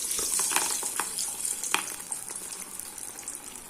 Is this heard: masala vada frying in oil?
yes